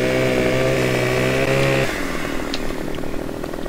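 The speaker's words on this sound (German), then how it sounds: "Ich gehe da an den Baum ran und säge den auf." A Husqvarna chainsaw in Farming Simulator 15 cuts into a tree, its engine droning steadily and loud up close, then dropping to a rougher, lower idle partway through.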